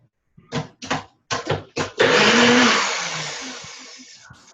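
Short bursts of speech come first. Then a loud blender kicks on, mixing hemp cashew milk with a harsh rising whir that slowly fades toward the end.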